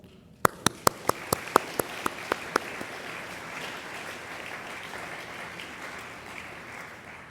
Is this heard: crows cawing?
no